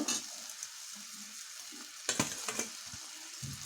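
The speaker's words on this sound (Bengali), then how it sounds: "দেখেন ঝোলটা খুব সুন্দরভাবে ফুটে গেছে। এবার আমি এর মধ্যে কোপ্তাগুলা দিয়ে দিব।" Jackfruit koftas drop into a pot of boiling curry gravy, with soft bubbling and sizzling plus a few brief splashes and clinks, near and fairly quiet.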